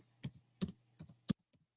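Typing on a computer keyboard: four or five distinct, fairly soft keystrokes at an uneven pace, close up in a quiet room, with no talking.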